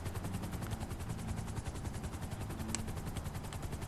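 Aircraft flight in the video game GTA V, with a steady, loud engine and rotor drone that fills the whole stretch without a break and carries no speech.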